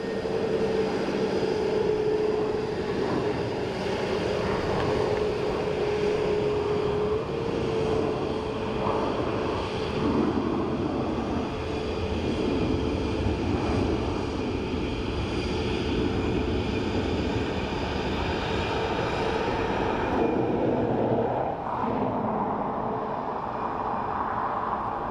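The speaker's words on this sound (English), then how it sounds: "our 17-year-old Airbus in from Milan, flight EI 433" A 17-year-old Airbus airliner arriving at Dublin Airport from Milan on flight EI 433 gives a steady, loud engine roar that holds for the whole stretch and eases off slightly near the end.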